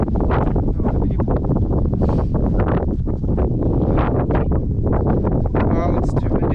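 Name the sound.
strong wind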